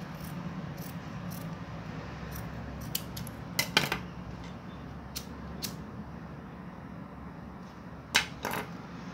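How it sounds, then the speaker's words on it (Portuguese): Scissors snipping through fabric during simple embroidery work on blanket trim, giving a few sharp, close cuts around the middle and near the end over a steady low room hum, with no talking. "se eu pego aqui minha tesoura, corta aqui na louca mesmo aqui"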